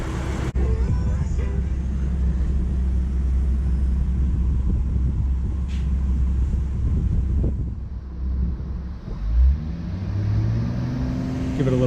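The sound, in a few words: 2011 Mustang V6 engine idling after oil change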